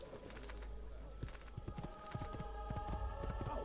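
Steady horse hooves clip-clop in an irregular trotting rhythm through a Renaissance street in the video game Assassin's Creed II, set against a constant low hum and distant birds cooing.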